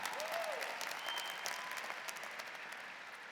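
Sustained applause from a large crowd at a university commencement ceremony, steady and moderately distant, tapering slightly, with a brief whistle or cheer near the start.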